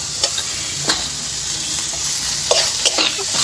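Green chillies and chopped tomato fry in oil in a pan, a steady close sizzle with a few sharper pops and scraping stirs through the clip.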